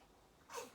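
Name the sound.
small sneeze during a yoga class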